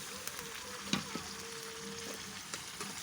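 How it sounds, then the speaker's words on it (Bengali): Beef simmering in oil in a pan, a low steady sizzle with a few soft clinks of stirring, fairly quiet and without voices. "তেল দিয়ে কষিয়ে নিয়েছি"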